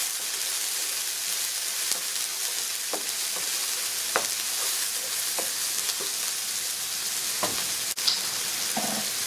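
Pork chops with salt, pepper and cayenne chili fry in a hot pan with a dense, even sizzle, while sparse light clicks and scrapes of stirring cut through now and then.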